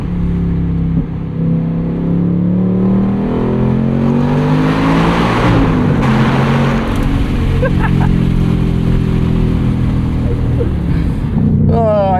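A 2024 Ford Mustang Dark Horse with a 500hp engine, 6-speed manual and track exhaust, revving hard and accelerating, a loud close roar climbing through the gears with shifts between pulls, and a voice briefly heard.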